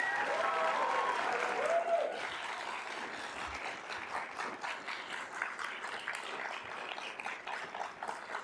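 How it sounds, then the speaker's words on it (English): An audience applauds at a graduation ceremony: dense, steady clapping from a large crowd that holds strong for about two seconds, then eases slightly and carries on evenly to the end. "And give them a round of applause."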